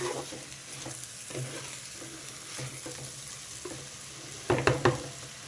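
A spoon stirring rice with leafy-greens masala in a pan for a pulao, soft scraping and gentle sizzling, ending with a few quick clinks against the pan.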